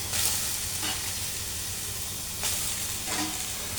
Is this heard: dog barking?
no